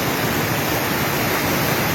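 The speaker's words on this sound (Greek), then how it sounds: "όπου πραγματικά είναι ένα ορμητικό ποτάμι" A torrent of floodwater rushes through the streets in heavy rain during flooding in Greece. It makes a loud, continuous broadband roar, with no voices over it.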